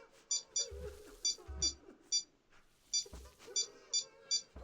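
Kitchen timer beeping as it is set, with a string of short high electronic beeps in pairs and small clusters alongside low knocks, fairly faint and heard without speech.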